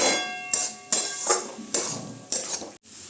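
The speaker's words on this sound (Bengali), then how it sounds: "ডিমটা দিয়ে এবারে ভালো করে একটু নাড়াচাড়া করে নেব যাতে সব বেগুনগুলো গায়ে একটু ডিমটা লেগে" Eggplant slices are stirred with egg in a frying pan, with a series of sharp metallic spatula clinks and scrapes on the pan at irregular intervals, close and fairly loud.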